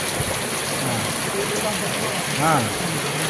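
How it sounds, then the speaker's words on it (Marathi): A heavy monsoon downpour hisses as a dense, steady wash of rain, with a faint voice murmuring beneath it. "आता सध्याला मुसळधार पाऊस पडायला चालू आहे."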